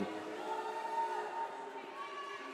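Roller derby home game crowd cheering and shouting in an arena, a steady sustained roar at moderate distance without individual voices standing out.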